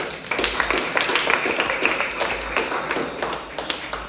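A church congregation applauding during a French-language sermon, many hands clapping in a dense, steady wash of claps that carries through the whole stretch without talk.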